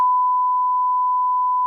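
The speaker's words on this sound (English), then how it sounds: "I'm beeping all of this out." A censor beep on a podcast is a single steady, pure electronic tone held at constant loudness for nearly two seconds, fully replacing the speech beneath it.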